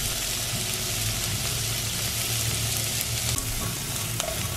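Calabresa sausage and bacon fry in a pan with a steady, close crackling sizzle that runs continuously, with small pops and spits scattered throughout.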